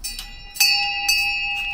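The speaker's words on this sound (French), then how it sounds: "Nicolas, c'est quoi les odds que tu fasses sonner la petite cloche qui est là?" A small bell is struck a few times, each ring a clear metallic tone that lingers and sustains between the strikes, fairly close and alone.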